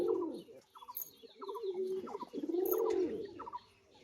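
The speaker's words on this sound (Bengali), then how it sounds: "তো আপনারা চাইলেই পায়রা জোড়া নিতে পারেন যারা ঝুটি শখ এটা লাল ঝুটি আর এটা লাল বর্ডারে ঝুটি" Jack Giribaz crested pigeons coo close by in low, throaty, rolling calls that repeat several times, with a few sharp high chirps between them and no speech.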